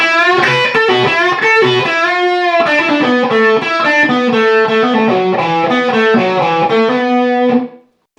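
A loud distorted electric guitar lick, with a quick run of notes, bends and sustained tones, ringing out before cutting off cleanly at the end.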